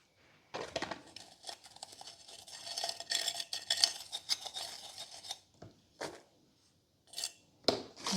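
A terracotta pot is handled during indoor plant chores, with scraping, rubbing and clinking contacts close by, a rasping stretch in the middle and a few separate knocks toward the end, with no voices.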